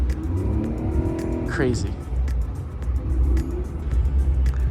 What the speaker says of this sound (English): Oh, we have a bus next to us on the water.